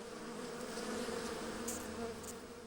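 A dense swarm of bees buzzing steadily and loudly, a continuous droning hum with no pauses.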